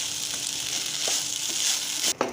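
Vegetable pulao mixture sizzles loudly in a hot pan as it is stirred, a continuous frying hiss with soft scraping strokes of the spoon and a brief pause near the end.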